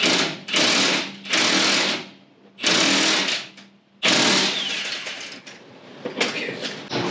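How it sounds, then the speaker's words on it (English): An impact wrench with extensions and a T55 Torx bit hammers at a bolt on a Jeep TJ axle, firing in four loud rattling bursts of a second or so each, the last one longer and uneven, with no talk. "to get this bolt out, it's a T55 Torx bit, and I'm using some extensions so I can fit my impact in here"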